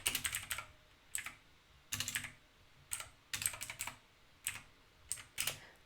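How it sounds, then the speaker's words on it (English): Bursts of typing on a computer keyboard, close and clear, coming in quick clusters of keystrokes separated by short pauses, with no voices. "Is that how we type nervous in English?"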